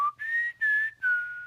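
A person whistles a short song tune in a few clear, sustained phrases, close and bright, with brief breaths between notes and no other sound.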